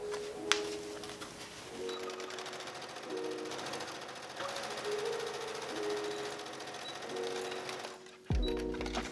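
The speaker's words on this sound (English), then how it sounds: "we're going to sew down either side here" A sewing machine stitches down both sides of fabric brim pieces for a reversible bucket hat, its steady mechanical whir running in several bursts with brief pauses, fairly close and alone.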